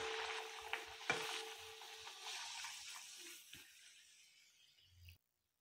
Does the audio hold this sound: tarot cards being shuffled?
no